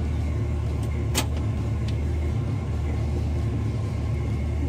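A steady, low engine rumble idles continuously, a 1959 DeSoto Firesweep Sportsman in drive but reluctant to move forward, with a brief faint click partway through and no voices.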